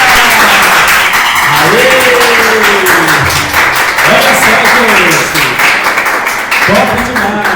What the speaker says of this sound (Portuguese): vamos aplaudir a galera!